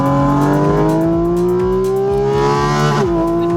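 A Porsche 911 GT3 RS engine revs hard near by at Sepang circuit, pitch climbing steadily, then drops sharply as it downshifts, loud and continuous with no talking.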